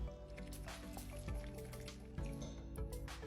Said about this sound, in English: Then strain it into a tall glass that's filled with crushed ice.